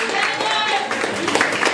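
Brief clapping at an anniversary celebration in a bar, greeting a DJ spinning records, a short burst of hands mixed with crowd chatter and overlapping voices close by.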